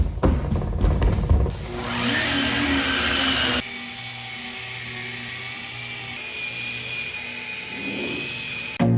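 A rotary polisher works the paint of a Ford F150 truck with a loud, steady motor whir, beginning with rough bursts before settling into a constant hum, with a drop in pitch partway through.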